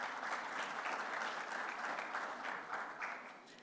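An audience at a manufacturing summit applauds, dense steady clapping from many hands that fills the room and tapers off toward the end.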